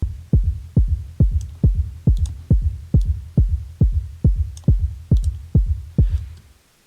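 A kick drum processed through hybrid convolution reverb thumps about a dozen times at a steady pace, each deep hit trailing a short ringing tail, with faint clicks above it.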